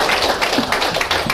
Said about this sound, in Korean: 여섯시간까지 열강 계신 스님께 천탄의 박수 부탁드립니다